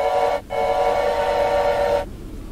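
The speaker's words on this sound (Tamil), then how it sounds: "ட்ரெயின் போகுது." A train whistle from the video game Choo Choo Charles, heard as a loud, steady tonal blast. It breaks off briefly, then sounds again for about a second and a half before cutting out.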